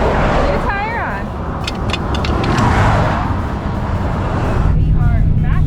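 An RV running on the road with new travel tires, producing a loud, steady rumble of engine and road noise that continues throughout, with a few brief squeaky chirps over it.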